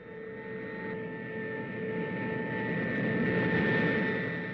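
A Soviet bomber's engines drone steadily with a constant tonal hum, slowly growing louder as though approaching, alone without voices.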